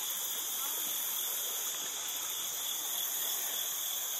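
The Green River flows through wooded country near Mammoth Cave, making a steady, moderate rush of water with a constant high insect or cricket hum over it.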